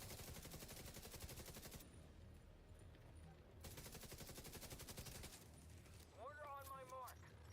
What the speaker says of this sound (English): Mortar on my mark. Now!